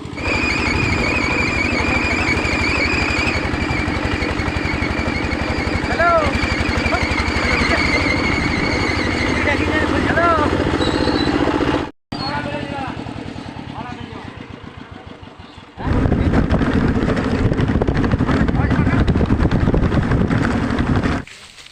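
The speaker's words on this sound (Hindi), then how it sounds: "इंजन टॉली की मदद से ले जा रही है लोगों के घर में" An engine trolley, a tractor-style cart, hauls freshly cut wood along a paved rural road. Its engine chugs loudly and steadily close by, drops out for a moment, then roars on with wind buffeting the microphone.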